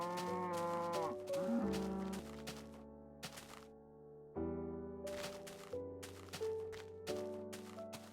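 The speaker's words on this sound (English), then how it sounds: "Oh, hello, cows. Seemingly harmless cows." Cows moo in the Minecraft video game, several drawn-out, low bellowing calls that come one after another over quiet background music, with a few thumps between them.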